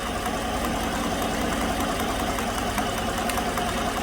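A 2016 GM truck's 5.3 V8, freshly repaired after a stuck lifter, runs at a steady idle close by, a continuous even engine drone with a faint ticking texture and no voices.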